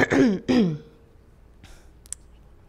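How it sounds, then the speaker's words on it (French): Two rough, voiced throat-clearing grunts in quick succession, close and fairly loud, followed by quiet and a couple of faint clicks. "Le besoin de se racler la gorge."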